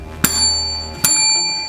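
Two bright rings of a bell notification chime, each a sharp strike with a long sustained tone, about a second apart, loud and close with no talk.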